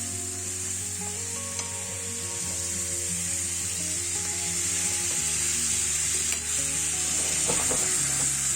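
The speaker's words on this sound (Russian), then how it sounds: "Мясо само дает сок, и поэтому оно обжаривается." Pieces of meat sizzle steadily as they fry in their own juices in a hot pan, with occasional scrapes and soft knocks as they are turned and stirred; continuous close frying noise without talk.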